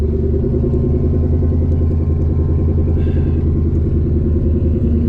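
A twin-turbo Coyote V8 street car rumbles loudly at close range as it is driven slowly into a garage, its engine holding a steady, throaty idle with light clatter and no talk.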